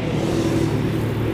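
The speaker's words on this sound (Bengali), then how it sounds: "রাস্তার ধারে গাড়ি ঘোড়ার খুব আওয়াজ" Roadside traffic rumbles in a steady, close, low drone of passing vehicles, unbroken and without speech.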